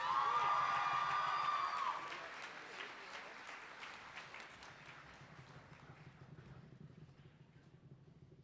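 A commencement crowd applauds applied science degree recipients, loud dense clapping at first that thins and fades over several seconds into scattered claps and room noise.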